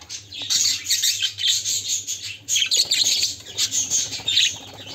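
Budgerigar chicks and adult budgies call from a nest box; busy, close, high-pitched chirps and squawks repeat in rapid pulses throughout, with no talking.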